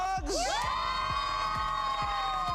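Girls' volleyball team of the Lady Bulldogs, district champions, cheering together in a loud burst of high voices and whoops that rise and then hold as a sustained group shout, close by.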